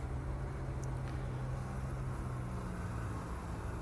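A Cummins N14 diesel engine on a modded Haterbilt truck in American Truck Simulator, a steady low droning hum held evenly throughout with no talk.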